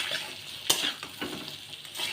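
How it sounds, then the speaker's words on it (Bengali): Pre-fried potatoes frying with onion and ginger in a pan, with a close, steady sizzle and a sharp clack followed by rhythmic scraping as the spoon stirs the mixture. "এবার আলুর সাথে ভালো করে কষিয়ে নেব।"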